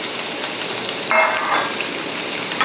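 Shrimp and lotus stems stir-fry in a hot pan, giving a steady hissing sizzle with a brief louder surge of crackle midway, close up and with no talk.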